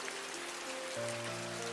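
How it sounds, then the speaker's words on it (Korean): Steady rain falls through the night, a dense, even hiss of drops spread across the whole short stretch with no voices over it, and a faint low steady hum sits beneath the downpour. "가끔 오늘처럼 비가 내리는 밤이면 이런 씁쓸한 생각이 듭니다."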